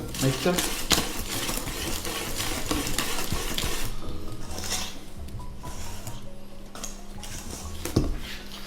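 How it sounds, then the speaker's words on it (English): Self-raising flour being stirred into a butter and egg mixture in a bowl, with continuous scraping and clattering utensil strokes close by while someone talks over it. "I'm gonna incorporate that into our butter and egg mixture"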